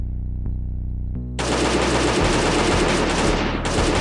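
Sustained rapid machine-gun fire in the survival game Last Day on Earth, shooting at a mounted machine gun turret, loud and continuous after a brief low droning start, with no talking.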